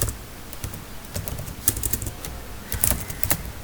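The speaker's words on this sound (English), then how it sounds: "I am typing it as" Computer keyboard typing while a word is entered into a spreadsheet cell, a fairly close run of quick irregular key clicks with a few louder strikes, no voice.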